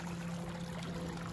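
Water running and pouring through a beaver dam outdoors, a steady continuous trickling rush with a low hum, unchanging and without voices.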